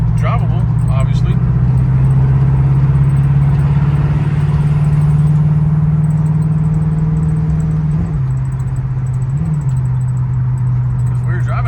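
A 1968 Ford Fairlane engine droning steadily while driving in snow, a loud, continuous low hum with small pitch shifts as the gearing changes, with a voice talking over it.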